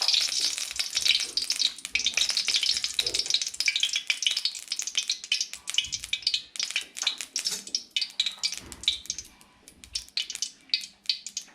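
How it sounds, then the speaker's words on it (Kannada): Vegetables with ginger garlic paste and salt frying in about two spoons of oil in a pan, a steady close sizzle with stirring scrapes and crackles throughout, fading a little toward the end. "ಈಗ ನೋಡಿ 2 ಸ್ಪೂನ್ ಎಣ್ಣೆ ಹಾಕ್ತಾ ಇದ್ದೀನಿ. ಎಲ್ಲ ತರಕಾರಿಗಳನ್ನೆಲ್ಲ ಹುರ್ಕೋಬೇಕಾಗುತ್ತೆ."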